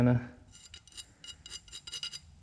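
Burrs being eased off piston ring edges for a boosted engine with a hand file, giving a series of short, light metallic rasping strokes in quick, uneven rhythm, close by, after a brief louder knock at the start.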